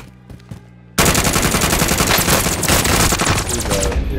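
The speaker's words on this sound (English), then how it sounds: "I'm under fire!" Heavy automatic gunfire erupts in Call of Duty: Modern Warfare, starting abruptly after a second of quieter game noise and a couple of small thumps, then rattling on loud and dense to the end.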